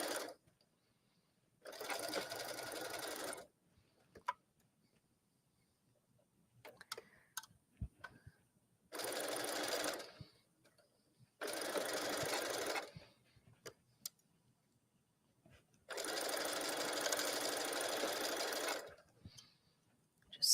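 A sewing machine driven by a foot pedal stitches a twisted collar onto a shirt in short bursts, each a steady rapid whir that starts and stops abruptly, separated by quiet pauses with small clicks.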